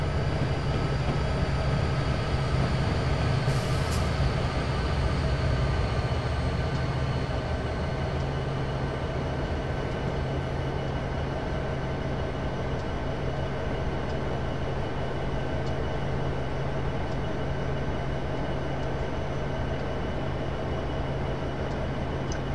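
Locomotive hauling a string of wagons on Horseshoe Curve in Train Simulator 2015, heard as a steady, loud rumbling drone with a low engine hum that holds evenly throughout, no voices over it.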